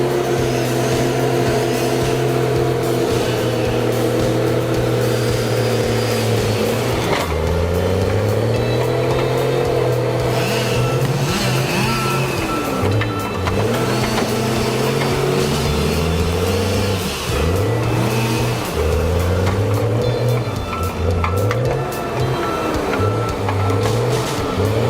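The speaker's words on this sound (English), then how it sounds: "That's the John Deere 548 G3 skidding a huge log." A John Deere 548 G3 skidder strains to drag a huge, heavy log uphill, its engine droning loud and close with rising and falling revs and labouring surges throughout, no voices present.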